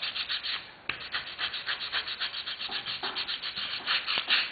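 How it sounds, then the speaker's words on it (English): A sanding block rubs back and forth over a fender being shaped, giving close, rhythmic scratchy strokes in quick succession, alone with no talking. "if my sand block will allow me, I should be able to do this right quick"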